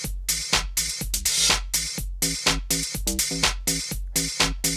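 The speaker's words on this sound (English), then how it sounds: "And there's the basic bass sound too." A punchy synthesizer bass from the Bazille synth plays a quick repeating pattern of short notes with sharp attacks, bright and rhythmic, with no voices.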